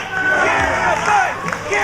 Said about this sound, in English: The crowd cheering for Garabai.